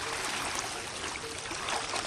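Fast-flowing river water rushes in a steady broadband wash while people wade across the strong current, the flow loud and continuous with no talk.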